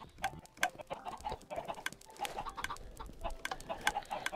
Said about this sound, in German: Ein Huhn hat ein Ei gelegt.